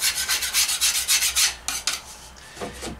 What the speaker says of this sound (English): So we'll scrape off our board a little bit.